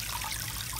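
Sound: rain barrel water pouring into the tub

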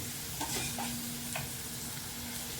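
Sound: chopped spinach being added to a pan and sautéed

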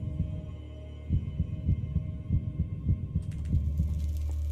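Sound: heartbeat sound in the Minecraft map Decked Out 2 (video game)

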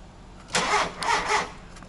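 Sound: cold start of a 1.4 litre 16V car engine

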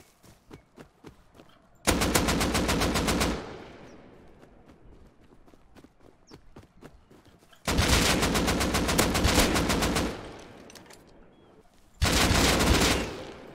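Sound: gunfire in the video game Rust

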